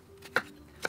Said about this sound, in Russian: Тыкву моем, чистим и нарезаем достаточно крупными кусочками.